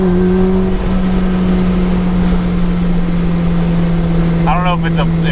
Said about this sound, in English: you hear the supercharger just whining the whole time